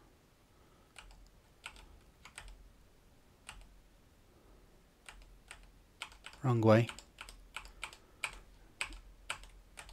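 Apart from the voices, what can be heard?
typing on a computer keyboard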